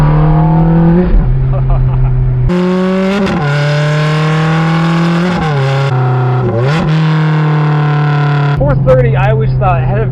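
A Ferrari F430 fitted with a loud Fabspeed exhaust revs hard and close, rising and falling in strong harmonic sweeps with sharp blips between throttle stabs, while someone talks over it.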